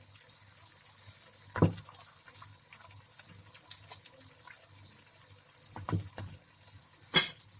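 A spoon stirs cream into white chicken boti in a pot off the heat, quiet overall, with a few distinct scrapes and clinks against the metal.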